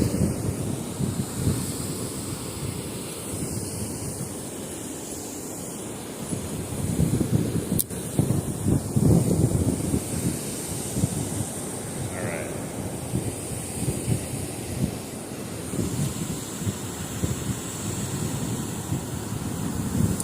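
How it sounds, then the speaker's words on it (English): Strong wind buffeting the microphone beside open water during fishing, a continuous loud rumbling roar with surf-like surges and gusts throughout, with a person speaking faintly at times. "it's gotten so much more windier than when I just got here even"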